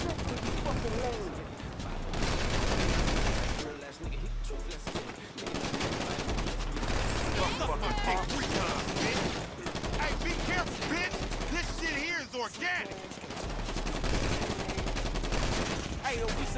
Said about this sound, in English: Hold still while I shoot your bitch ass